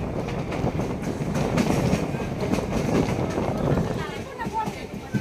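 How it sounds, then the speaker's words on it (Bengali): A commuter train pulls out of Mahachandrapur station in West Bengal and runs steadily on the rails, its continuous rumble and wheel clatter heard close from inside the carriage, with faint voices mixed in. "মহাচন্দ্রপুর থেকে ট্রেন ছেড়ে দিয়েছে।"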